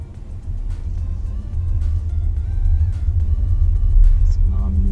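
A Tata Nexon EV electric car drives up an incline, giving a steady low road rumble and tyre hum that grows slightly louder, with faint whine and a voice talking over it.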